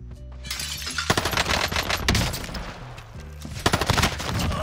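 Submachine gun fire in a multiplayer shooter match: rapid bursts of close, loud gunshots repeat throughout, with overlapping shots and clattering effects.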